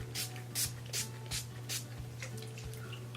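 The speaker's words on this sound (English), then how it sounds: "I'm going to spray my face with Physicians Formula Insta Ready." Physicians Formula Insta Ready setting spray is misted onto a face in about five quick, hissing pumps at a steady pace, close up over a constant low hum.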